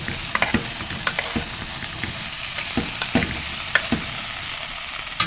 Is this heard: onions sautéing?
yes